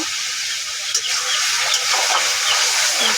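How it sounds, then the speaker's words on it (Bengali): Whole garam masala, cinnamon, cardamom and bay leaf with green chilies, fries in hot oil. It gives a loud, steady, close hiss with faint crackles scattered through it. "এবার মশলাটাকে ভাজা ভাজা করে নেব"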